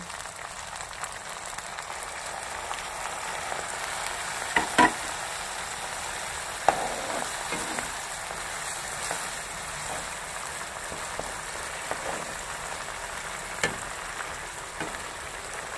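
Pabda fish masala frying in a pan after a little water is added, a steady soft sizzle running throughout with a few faint clinks, close and without talk.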